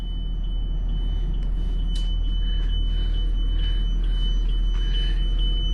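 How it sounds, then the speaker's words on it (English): Inside a 2022 Tiffin Allegro Red 37 PA RV, a tire pressure warning alarm sounds as a steady high-pitched electronic tone over a constant low engine hum, with faint repeating chirps. "We still have our tire warning going on."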